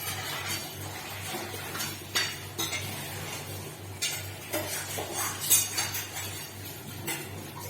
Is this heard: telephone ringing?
no